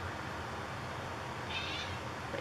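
Cat giving a short, faint meow over steady background hiss, heard once near the end.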